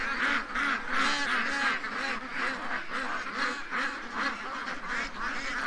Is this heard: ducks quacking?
yes